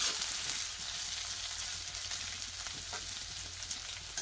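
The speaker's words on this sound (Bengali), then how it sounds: "আর করলা এই যে ভাজা করতেছি" Bitter gourd fries in a pan, a faint but continuous sizzle and crackle of oil with small pops throughout.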